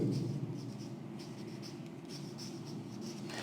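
Marker or chalk writing on a classroom board during a math lesson, a series of short scratchy strokes in quick bursts over a faint room hum, close and soft.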